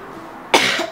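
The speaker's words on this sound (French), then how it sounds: "je tousse un peu" A woman gives a single short, sharp cough, a close burst with a quick second catch, set against a quiet indoor background.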